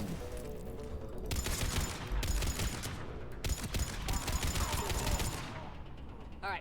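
Rapid bursts of gunfire from Commander Shepard's gun in Mass Effect 3, loud and close, in several clustered volleys with short gaps between them, over busy game combat noise.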